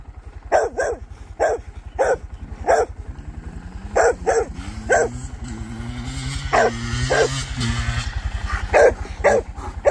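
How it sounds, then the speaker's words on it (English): A playful dog gives repeated short barks and yips in quick bursts over a low steady engine hum, as if inside a moving car, with a person talking in between. "Yeah, bark, bark, bark."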